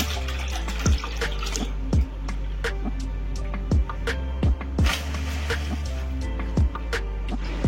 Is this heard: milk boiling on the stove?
yes